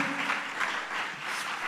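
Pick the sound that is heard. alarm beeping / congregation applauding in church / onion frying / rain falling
congregation applauding in church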